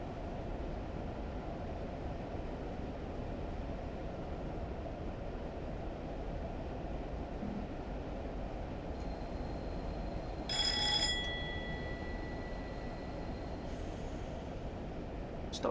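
Class 50 diesel locomotive hauling a long train between Oxford and Paddington in Train Simulator, a steady low engine and rolling rumble with a brief high metallic tone partway through.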